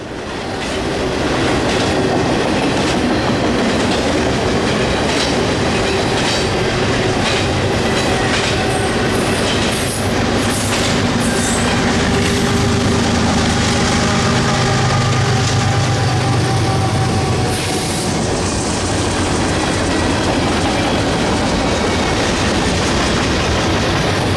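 A long BNSF manifest freight train led by locomotive 8285 passes at Rochelle at dusk, a loud, continuous rumble with rhythmic clickety-clack of wheels on rail joints and occasional faint wheel squeal.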